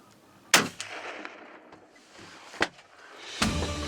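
Gunshots from a hunting blind at a preserve, three sharp loud reports spaced about a second or two apart, each a sudden broadband crack with a short decay, the last trailing into rumbling noise.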